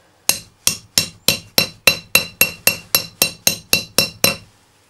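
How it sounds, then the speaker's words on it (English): A hammer taps a metal tube onto a wheel bearing in a Dodge hub about a dozen times in an even, quick rhythm, each strike bright and ringing, close and loud. "take the hammer to get it in there"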